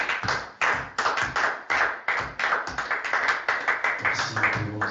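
Church congregation clapping together in acclamation, a dense run of fairly close, irregular hand claps that goes on steadily without speech.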